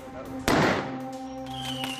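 A single sharp firework bang goes off during a street riot with burning barricades, set against a steady low background hum.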